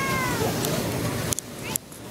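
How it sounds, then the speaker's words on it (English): A cat meows outdoors on a Westwood street near UCLA, a drawn-out close cry over steady background noise, followed by a couple of brief clicks and another short call. "This is Powell Cat."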